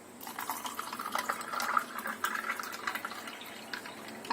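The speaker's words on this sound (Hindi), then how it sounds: "अब डाल देंगे इसमें हम ठंडा पानी।" Cold water poured into a glass of mango panna with ice, a soft continuous trickling and splashing that stays close and quiet for several seconds.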